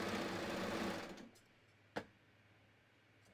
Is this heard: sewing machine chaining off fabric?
yes